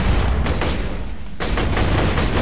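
A Vladoff rocket gun with a Torgue barrel fires explosive rounds in Borderlands The Pre-Sequel: loud, rapid bursts of booming shots in two volleys separated by a short pause.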